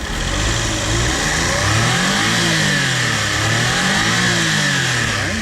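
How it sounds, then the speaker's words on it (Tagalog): A Suzuki Every Wagon Sporty Edition 4WD van's turbocharged engine revs loudly and continuously up close, rising and falling in pitch with a whistling turbo whine on top. "Ganda ng tunog ng ating every wagon"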